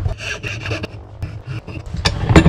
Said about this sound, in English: now I'm going to cut the lip slot